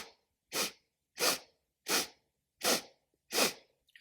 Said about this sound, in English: 7 sips of breath through the nose.